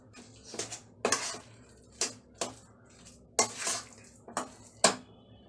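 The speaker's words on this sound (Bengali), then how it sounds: "এবার আমি সসটা আর পালং আর টমেটো পেস্টটা ভালো করে আলুটা মাখিয়ে নিয়ে আমি ভালো করে একটু নাড়বো।" Potato coated in sauce, spinach and tomato paste is stirred in a pan, with a spoon scraping and clinking against the metal in about seven distinct strokes over a soft background hiss.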